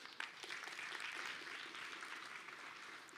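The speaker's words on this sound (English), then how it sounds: "Round of applause." A faint, even round of applause from a Devcon SEA conference audience for a panel, many hands blending into a steady patter that holds for the whole stretch without any talking.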